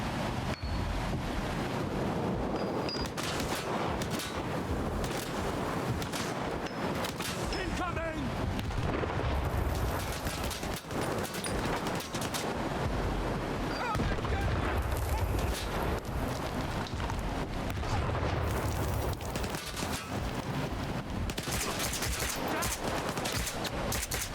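Gunfire in Stalker 2: Heart of Chornobyl, a dense rumbling barrage of shots and booms over wind-like noise, continuous and moderately loud throughout.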